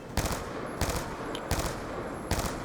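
Rifle fire in Call of Duty Black Ops 2, heard as repeated loud close bursts of sharp gunshots at a steady rhythm over constant background game noise, with no talking.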